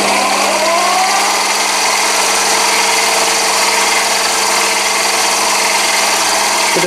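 A lathe motor runs at full speed with a steady, loud mechanical hum and a constant whine, with no talk over it.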